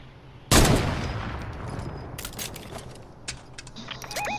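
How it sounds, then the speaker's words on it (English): Gunfire rings out in the video game Fortnite. One loud, close shot or burst hits hard and decays into a long tail, followed by fainter scattered shots and clicks. "They're shooting."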